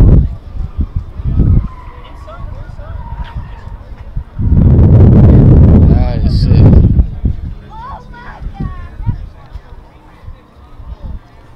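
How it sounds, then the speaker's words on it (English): A straight-piped Porsche Carrera GT at a supercar show lets out a loud, raw engine roar lasting a couple of seconds amid crowd noise and nearby chatter, with lighter engine sounds before and after. "V12S, straight piped Carrera GT."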